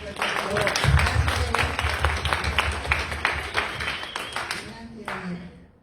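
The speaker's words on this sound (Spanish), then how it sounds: "Damos un aplauso, por favor." Audience clapping at a university panel discussion on accessibility, a dense patter of many hands that swells, holds steady for several seconds and then thins out, with a faint voice underneath.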